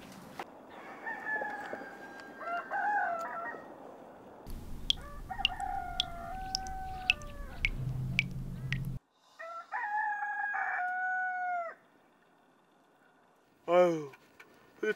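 Roosters crow repeatedly at a rural Namwon home, with several long drawn-out calls near the mic and pauses between them, and a brief sharper cry near the end.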